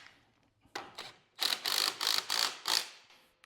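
Ratchet wrench tightening the steering wheel nut on a Husqvarna or Craftsman lawn tractor, a few scattered clicks, then a steady run of about six quick ratcheting bursts, close and fairly loud with no talking.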